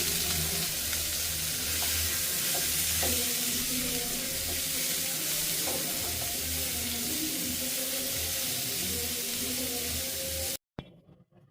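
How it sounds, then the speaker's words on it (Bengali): Onions and chili flakes stir-fried in oil, a continuous low sizzle with occasional spoon scrapes for about ten seconds before it cuts off abruptly. "এখানে সেম তেলের মধ্যেই পেঁয়াজ দিয়ে চিলি ফ্লেক্স দিয়ে মিক্স করে নিয়ে"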